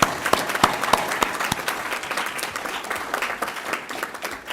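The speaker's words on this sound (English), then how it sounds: "give Grey Wolf a big thank you round of applause" An audience at a veterinary association forum gives a round of applause to a sponsor, many hands clapping in a lively, crisp burst that tapers off gradually, with no speech over it.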